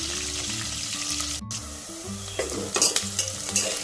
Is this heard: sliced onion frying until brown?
yes